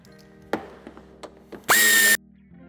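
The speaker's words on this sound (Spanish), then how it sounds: "Retiraremos también esta parte de tapizado, quitando el tornillo de la parte superior." Cordless screwdriver spinning out a screw from an interior trim panel of a 2017–2019 Škoda Octavia Scout III, a single short loud whir after a few soft plastic clicks and taps, no talking.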